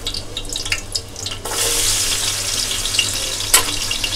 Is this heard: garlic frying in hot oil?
yes